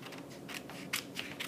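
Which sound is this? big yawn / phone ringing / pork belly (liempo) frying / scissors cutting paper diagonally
scissors cutting paper diagonally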